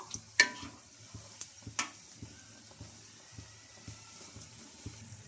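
Semolina vadas fry quietly in hot oil, giving a soft bubbling sizzle broken by scattered light clicks and taps, with a few sharper knocks near the start.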